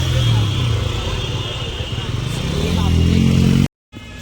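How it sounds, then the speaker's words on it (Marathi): Road traffic on the route to Matheran rumbles past nearby, motorcycle and car engines droning loudly under a constant hum, before the sound cuts out abruptly near the end. "बघूया तर ट्रॅफिक एवढी आहे"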